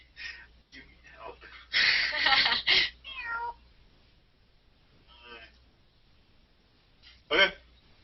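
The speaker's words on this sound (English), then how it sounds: "You meow." A cat meows several times nearby, a cluster of drawn-out cries followed by quieter, scattered meows with pauses between.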